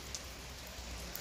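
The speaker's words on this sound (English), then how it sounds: "I'm waiting for the rain to stop." Steady rain falling under a tree in a village setting, a continuous soft hiss of drops close by, with no voices.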